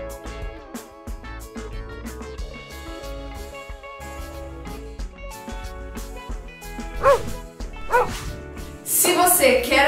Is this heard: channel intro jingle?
yes